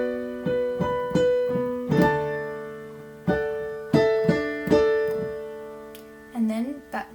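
A piano plays a passage from a song in a tutorial setting, with about eight struck chords and octave notes at an unhurried, uneven pace, each left to ring and decay, close and clear.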